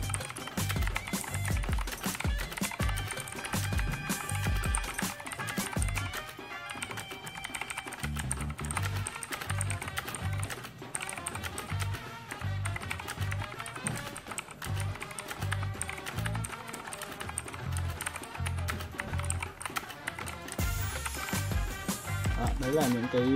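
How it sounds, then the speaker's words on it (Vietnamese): A Midio RX920 mechanical keyboard is typed on in a steady, continuous stream of close clacking keystrokes, running the whole time beneath constant background music. "bây giờ mình sẽ gõ qua một đoạn văn bản trên con bàn phím này."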